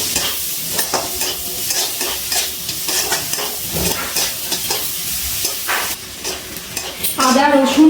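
Onion, ginger, garlic and green chili frying in a pan for mixed fried rice, with a loud continuous sizzle and steady rhythmic stirring and scraping up close, ending in a brief clatter.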